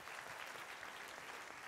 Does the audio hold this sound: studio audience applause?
yes